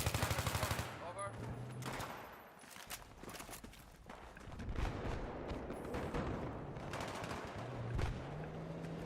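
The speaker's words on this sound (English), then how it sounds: "Hostile machine gun." Hostile machine gun fire in the Battlefield 3 video game on PS3, rapid bursts crackling through a dense, noisy battle mix with other gunfire and impacts, while voices are heard over the din.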